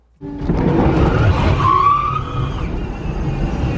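An all-electric Porsche 911, two-wheel drive, launching hard without launch control, rises into a loud, sustained rush of motor whine and road roar with a brief tire squeal in the middle, close and continuous for several seconds.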